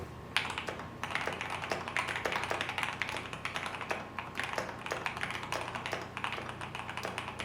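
Typing on a custom-built computer keyboard: dense, fast clacking keystrokes close up, continuous and even for several seconds with no voices.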